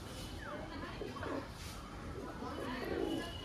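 A male Madras Giribaz pigeon gives soft, low coos, faint and intermittent over a steady background hum.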